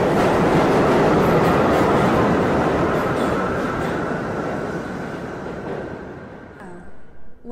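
A train rushes past in a radio play sound effect, a loud, dense rumble and clatter that slowly fades away as it recedes, ending in quiet with a faint high tone.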